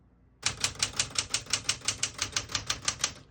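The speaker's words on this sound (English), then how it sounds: "all the keys type nice and none of them skip or stick" A 1966 Smith-Corona Galaxie II portable typewriter being typed on, a brisk even run of about fifteen crisp close keystrokes in a steady rhythm, with nothing else heard.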